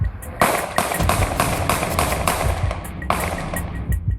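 Gunshots fired by a policeman, a rapid string of loud, sharp cracks in quick succession with a brief pause before a final burst, close and harsh.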